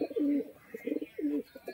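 A female pigeon cooing in several soft, throaty phrases close by, repeated in quick succession.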